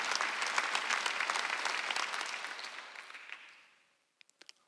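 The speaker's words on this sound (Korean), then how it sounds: "박수 한번 주세요." A church congregation at a Sunday worship service breaks into loud, close applause that slowly fades out, followed by a few scattered last claps.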